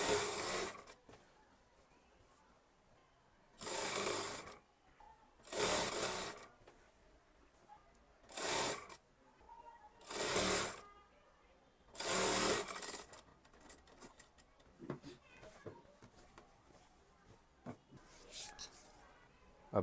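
A sewing machine stitches a kurti yoke onto the main fabric in several short, loud bursts of rapid needle chatter, each separated by quiet pauses.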